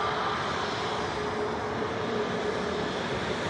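An aircraft lands at Cork airport, a steady broadband engine roar that holds at a constant level throughout, with no talk.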